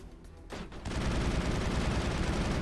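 Rifle gunfire fills a Mass Effect battle, starting with a few scattered shots and then a dense, continuous roar of automatic fire and explosions that stays loud to the end.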